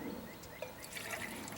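Boiling water trickles and splashes as it is poured from a pot held with a pot lifter over a fire; faint and steady, with no talking.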